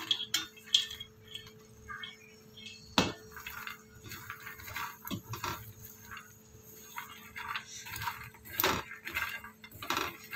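Fried makhana being stirred with chili powder in a metal dish, a steady run of scraping and light clinking of spoon against the vessel, close and continuous, with a few sharper knocks.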